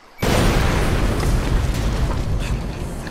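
A loud explosion in Far Cry 2 bursts in after a brief quiet, then rumbles on as a broad, sustained roar that fades slowly over the next few seconds.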